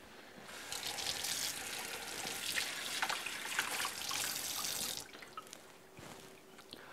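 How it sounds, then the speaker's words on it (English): Running tap water splashes and trickles as a ladle is rinsed for mixing spring 1:1 sugar water for bees, a busy close spatter for about five seconds that then cuts off, leaving a few faint drips. "Let me rinse this off real quick."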